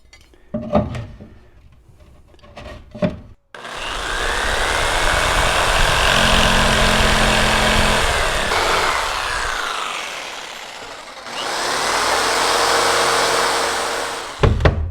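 A jigsaw cuts out a wooden interior shelf partition: a few light knocks come first, then a long loud buzzing run, a short pause, and a second burst of cutting.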